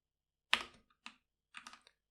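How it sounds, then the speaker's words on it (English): Computer keyboard typing during a coding session: a few sharp, close key clicks in quick succession with short pauses between, alone in a quiet room. "Why am I typing Z all the time?"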